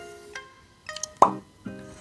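A loose diamond dropping out of its ring setting once the holding prong is pried open makes a single crisp plop with a light tick before and after, close and clean against near silence.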